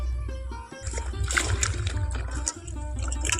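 Karonda berries rubbed and rinsed by hand in water in a kitchen bowl, with close splashing, sloshing and trickling that rises and falls, while a steady hum sits underneath.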